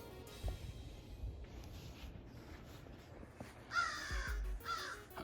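A crow caws outdoors in a snowy setting, a few fairly distant calls over quiet background noise.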